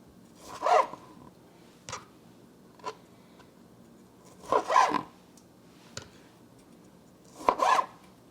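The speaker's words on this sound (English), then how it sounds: "I have another tomato here that I'm going to cut" Knife cutting through fresh garden tomatoes on a board for a black bean and corn salad, several distinct slicing strokes in clusters with short quiet gaps, close and moderately loud, no talking.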